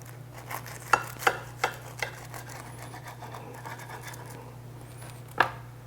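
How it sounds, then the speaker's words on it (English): A knife cuts through a shrimp po'boy sandwich, giving a few crisp scratchy crunches in quick succession, then a quieter stretch and one more sharp crackle near the end, close with a steady low hum behind. "Take this sucker and cut it in half."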